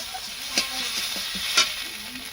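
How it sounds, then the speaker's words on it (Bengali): Spice paste with a little chili powder fries in a small amount of oil for a river bela fish curry, a steady close hiss broken by two sharper stirring scrapes. "মশলাটাকে ভেজে নেবো প্রথমে ভালো করে, অল্প সামান্য তেল দিয়েই রান্নাটা করব।"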